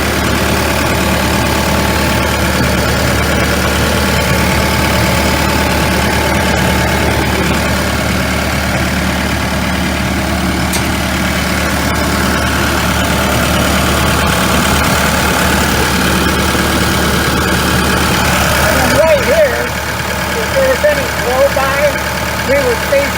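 A Cat 313FL excavator engine idles in a steady, loud, low diesel drone that holds constant throughout, with someone talking nearby.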